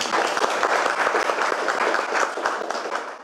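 Gallery visitors at an art exhibition clap in a short, lively burst of applause, individual claps standing out close by amid the crowd.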